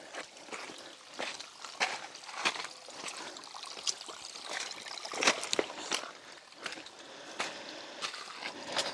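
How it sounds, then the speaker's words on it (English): Creek water trickling and splashing around a screened pipe intake, a steady babbling flow with irregular close splashes and no talking. "I simply have a piece of pipe with some screen over it in a creek."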